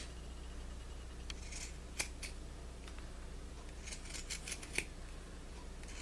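Pinking shears trimming fabric for a homemade face mask, a few sharp, close snips scattered over a quiet background, no talk.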